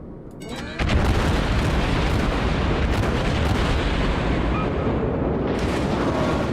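Naval guns in World of Warships open fire: a sharp cluster of shots, then a heavy sustained rumbling boom that rolls on loudly for several seconds before a final crack.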